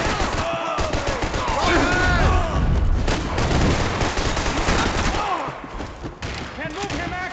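Sustained gunfire rattles in the video game Max Payne 3, dense and loud, with bursts and booms layered among shouting voices and game effects throughout.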